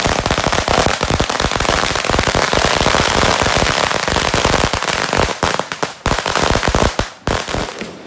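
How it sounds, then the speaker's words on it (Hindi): Dense, continuous crackle of firecrackers bursting in rapid strings at a hill-village wedding procession, loud and close, the volleys running almost without pause before thinning near the end. "यहाँ पर खतरनाक पटाखे यहाँ पे जलते हुए"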